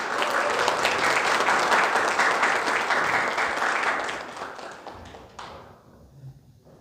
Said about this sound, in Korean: 오늘 첫 번째 강의 해주실 이정철 교수님 큰 박수로 맞이하겠습니다.